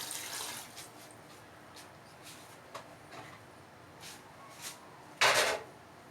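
Water is added to meat in a pressure cooker in a home kitchen, heard as faint, scattered splashes and light clatter with a short louder gush near the end, and no voices.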